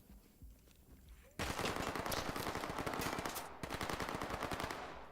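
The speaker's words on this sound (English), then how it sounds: "you hear the bullets. They're landing right next to me." Rapid automatic gunfire in the tactical shooter Ready or Not, with rounds cracking and landing close by; a quiet start gives way at about 1.4 seconds to a loud, sustained stream of shots that keeps going to the end.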